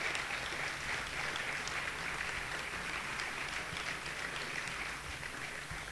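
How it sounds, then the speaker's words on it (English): Audience applause at a university athletics senior student-athlete luncheon, a steady, dense wash of clapping that holds evenly for several seconds at moderate distance, with no talk over it. "can we give these people a huge round of applause?"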